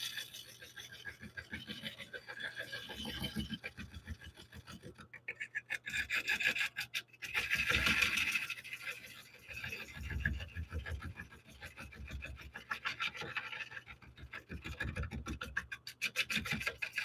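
Rough, rhythmic scraping and rasping of a gouge cutting cracked wood spinning on a lathe, close and continuous with repeated ticking catches as the tool meets the crack.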